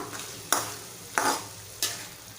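Prawn masala stirred in separated oil in a pan: three distinct scraping strokes spaced about half a second or more apart, over a steady low sizzle, close by with no voices.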